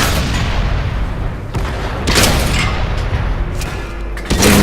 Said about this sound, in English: Go again, just firing out with that 2-pounder.